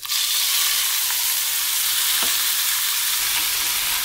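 Tomatoes stir-fried in hot oil with lemongrass and chili make a loud, continuous sizzling hiss, close up, with faint scraping from stirring.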